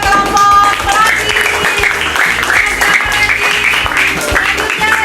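A classroom group gets applause: sustained clapping from students fills the room, steady and moderately loud for a few seconds, with voices mingling in the background.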